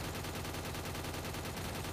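Gunfire from the Free Fire video game on the Kalahari map in Clash Squad mode, a dense rapid stream of shots with steady loudness, heard quietly throughout with no break.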